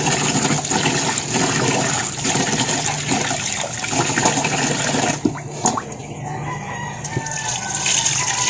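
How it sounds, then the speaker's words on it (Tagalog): Water poured off soaked rice and the grains rinsed again for a native bibingka, a steady splashing, gushing wash that runs nearly continuously, with a rooster crowing somewhere in the background. "Ito ay itapon lang natin tong tubig at saka hugasan natin ulit ang bigas."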